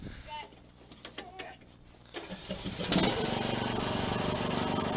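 Racing lawn mower engine starting up after some handling noises, then idling steadily and loudly from about two seconds onward, with brief voices nearby.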